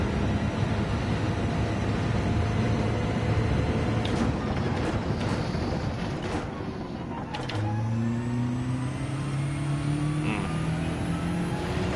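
A race car engine in a video game time trial drones loud and steady, dipping and shifting pitch as it brakes and accelerates through a chicane, with a rising rev toward the end.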